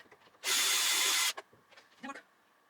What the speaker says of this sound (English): So I removed the screws from this side